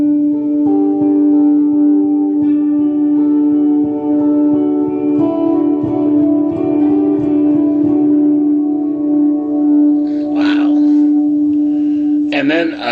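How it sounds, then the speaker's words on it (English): Guitar run through a TC Electronic Plethora X5 pedal with reverb effects stacked on top of each other, giving a sustained tone with long washy ambient tails and a few brighter plucked notes near the end. "So here I'm going to turn on another one on top of the reverb I already had, and now it sounds like this."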